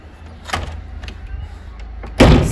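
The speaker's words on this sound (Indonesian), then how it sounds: "Saya harus tutup pintu dulu." A door being closed in a house in Italy: a soft knock early, then a louder thud near the end over a steady low hum, with no speech.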